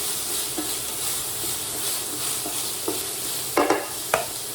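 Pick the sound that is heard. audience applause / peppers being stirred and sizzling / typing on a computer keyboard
peppers being stirred and sizzling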